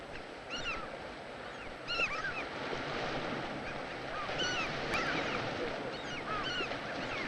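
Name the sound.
wind and rough sea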